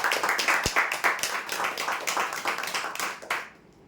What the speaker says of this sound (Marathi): टी टेबल काचसाठी जोरदार टाळ्या होत्या